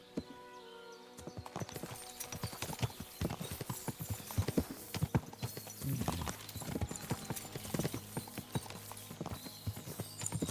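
Horse hooves clip-clop at a brisk, irregular pace in Kingdom Come: Deliverance II, loud and close, with game ambience underneath.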